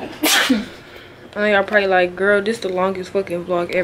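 A single sharp sneeze bursts out near the start, followed by someone talking casually in a home setting.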